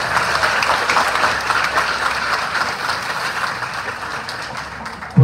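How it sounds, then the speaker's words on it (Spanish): A church congregation claps for the diocesan priests at a priestly ordination Mass, a full, echoing round of applause that gradually thins out, ending with a sudden thump. "Y a los padres diocesanos, un aplauso"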